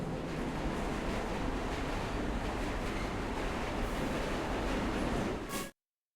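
Steady rumbling of a train ride in the video game Luna Abyss, a constant broadband roar with wind-like noise that cuts off abruptly near the end.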